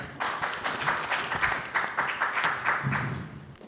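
A seated audience at a Jeollanam-do education forum claps to welcome a presenter, moderately loud applause with a slightly pulsing rhythm that carries on evenly for a few seconds without talk.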